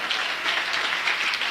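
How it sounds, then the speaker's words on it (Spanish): A church congregation claps during a Spanish-language morning service, giving a brief, close burst of dense, even applause with no voices over it. "Dale un aplauso a Jesús en esta mañana."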